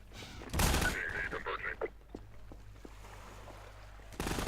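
Bursts of gunfire in Half-Life 2, a heavy volley near the start and another at the end, with scattered shots and clatter between over low engine-like hum.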